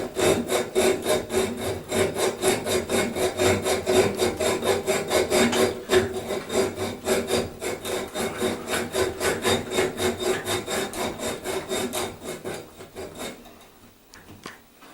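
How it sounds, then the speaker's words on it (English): Hand saw cutting through a toilet bolt held with locking pliers, a fast, even rasping stroke repeated many times, close and steady before slowing and fading near the end. "by hand I'm going to saw right through the bolt"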